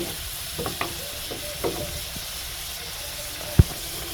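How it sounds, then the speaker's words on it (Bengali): Steady sizzling of potatoes frying in hot oil, continuous and close, with a few soft clinks and one sharp tap near the end. "আলুটা আগে ভেজে নিচ্ছি"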